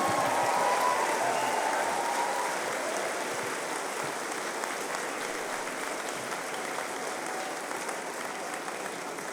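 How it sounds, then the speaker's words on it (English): Sustained applause from the audience for the graduating class at a school commencement ceremony, a broad even wash of clapping that stays steady and slowly thins over several seconds, with no voices standing out. "How about one more round of applause for the graduating class of 2023?"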